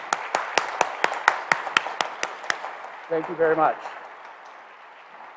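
A debate audience claps in a brisk, scattered round of applause that fades out, after which someone speaks briefly over the dying claps.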